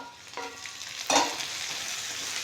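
Onion sautéing in a pan for a leftover-chapati breakfast, giving a soft, steady sizzle with a sharper scrape of stirring partway through, fairly quiet and close with no talking.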